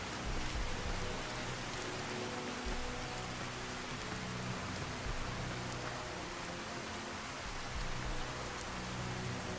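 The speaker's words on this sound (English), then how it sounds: "Where do you suppose that rain is coming from?" Steady rain pours down outdoors on the National Mall, a dense, even hiss of drops hitting surfaces that holds at a constant level throughout with no voices.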